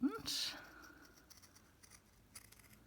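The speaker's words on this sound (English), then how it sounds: "Get my good cutting scissors." A single close snip of fabric scissors cutting into a vintage doily comes right at the start, followed by faint rustling and handling noise in a quiet room.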